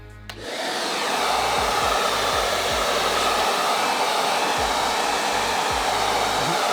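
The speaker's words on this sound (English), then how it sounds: "I like to change it while I'm blow drying and blow drying it down a little bit till it's about halfway dry" A handheld hair dryer clicks on, then holds a loud, steady whooshing roar close by while blow drying a man's hair, with faint rustles of hair and hand movement beneath, no speech.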